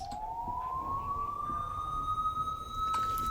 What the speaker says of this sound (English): this police siren